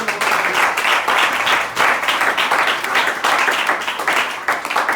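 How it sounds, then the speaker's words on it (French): A church congregation applauds for the Lord, producing dense, sustained clapping that swells in waves and fills the room from start to finish. "Acclamons pour le Seigneur."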